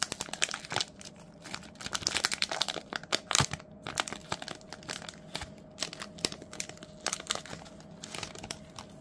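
Foil wrapper of an AFL Footy Stars 2024 hobby trading card pack crinkling and tearing open up close, a steady run of sharp crackles and rustles, fairly quiet and alone.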